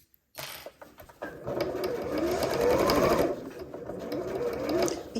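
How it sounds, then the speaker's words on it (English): A sewing machine stitches over a bag clasp tab, running forward, then in reverse, then forward again in one continuous whirring pass, close and steady. "go backwards and then back over it again, just to make sure it's nice and firmly sewn in"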